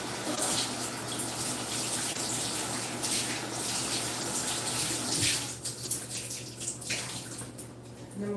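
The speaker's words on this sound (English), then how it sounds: "Let me rinse my hands." Hands are rinsed under a running tap at a pet grooming table, a steady hissing stream of water splashing with slight shifts in flow, fairly close and alone.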